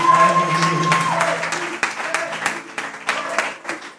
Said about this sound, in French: Quand on accueille un roi, on se lève et on l'applaudit